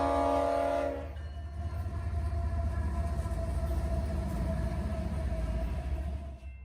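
CSX freight locomotive 3194 sounds its horn in a short sustained blast, then rolls past with a steady, heavy rumble of wheels and cars that fades slightly at the end.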